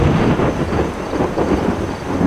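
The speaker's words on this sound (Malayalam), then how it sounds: "ഇരുണ്ട ആകാശവും മഴയുടെ അനന്തമായ താളവും മാത്രമേ കേൾക്കാനുണ്ടായിരുന്നുള്ളൂ" Heavy rain with rolling thunder, a dense, loud and continuous roar with low rumbles, set under a spooky narrated horror story.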